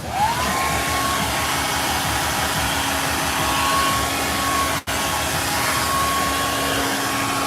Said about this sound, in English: So I'm gonna hit this with the dryer real quick.